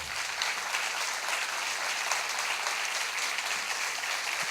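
An audience gives speaker Bernardo Kliksberg a standing ovation after his talk on ethics and social responsibility, a dense, steady wall of clapping filling the whole stretch at even loudness.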